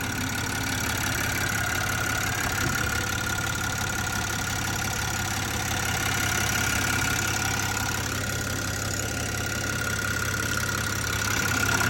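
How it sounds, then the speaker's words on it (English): A big-turbo 700 HP 2024 BMW M240 engine idles steadily and continuously, a low rumbling drone with a faint high whine on top, no voices. "This is how the engine sounds turned on."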